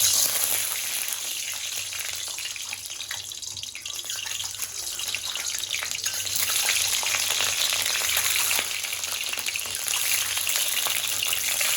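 Green beans (sim) frying in oil in a home kitchen, a steady broad hiss of sizzling that runs through the whole stretch at fairly even loudness with no talking.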